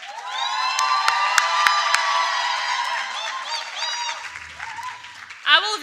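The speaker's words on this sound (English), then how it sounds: "let's clap hands for Ntombi Bota" A conference audience applauds and cheers with whoops and shouts, a loud sustained burst of clapping and high voices that gradually thins out before a voice speaks briefly at the end.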